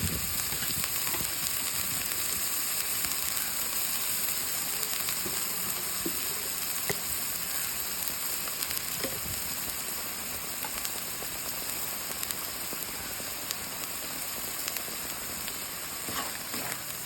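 Mustard greens paste fries in oil with a constant dense sizzle and hiss, close and even throughout, with occasional faint scrapes and no voices.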